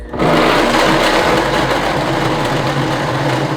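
A blender whirs at full speed, grinding almonds with water into almond milk; a steady, loud, dense motor roar fills the whole stretch after a quick spin-up, with no talking.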